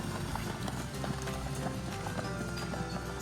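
A mare's hooves clip-clop steadily on a riverside trail ride, a busy continuous patter of hoof strikes amid outdoor noise, with a brief whinny possible in the background.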